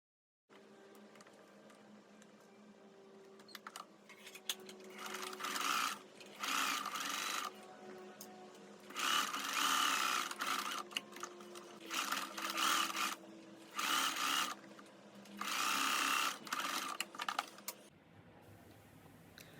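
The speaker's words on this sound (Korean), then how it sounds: "심지의 중앙에 스티치를 해줍니다." A sewing machine stitches interfacing onto a linen dress in several close, loud bursts of rapid mechanical whirring. Brief pauses separate the runs, and the bursts lengthen toward the end.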